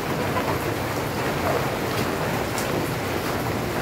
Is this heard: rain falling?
yes